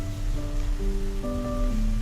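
Heavy evening rain pours onto a street with puddled water along the curb, a steady wash of noise with a low, even hum running beneath it throughout.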